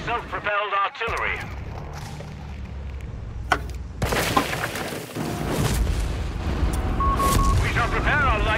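Bombing explosions in Company of Heroes 3, deep booms and rumbling blasts, one sharp hit followed by heavier bursts and a sustained roar, layered beneath voice chat and game announcements.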